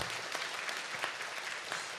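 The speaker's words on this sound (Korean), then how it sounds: "네, 박수로 화답해 주십시오." A hall audience at a Korean resident self-governance convention applauds in a dense, even wash of many hands clapping at a distance, steady throughout.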